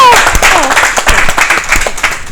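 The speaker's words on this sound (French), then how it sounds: "On applaudit encore très fort pour LNK Group." An audience claps for LNK Group at a live Saturday entertainment show, a brisk patter of applause running under a host's voice.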